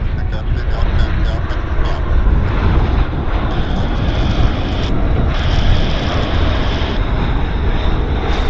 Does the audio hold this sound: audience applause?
no